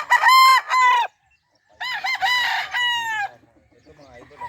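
Sweater gamecock roosters on a game farm crow loudly and close in two long bursts, separated by a short silence, followed by quieter clucking.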